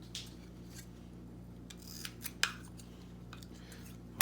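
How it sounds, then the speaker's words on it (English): A few short, quiet snips of scissors cutting the ends off a tightly rolled soapstone holder, close up, scattered over a low steady background hum. "Take a pair of scissors and nip the ends off."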